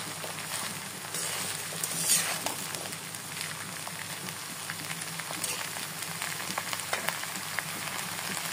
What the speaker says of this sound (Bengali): পেঁয়াজ কুচি, রসুন কুচি ভেজে নেব।